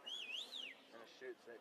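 A referee's whistle at a scrum in a schoolboy 1st XV rugby match between Palmerston North Boys' High and Gisborne Boys' High, one clear wavering blast followed by two short chirps, with faint voices.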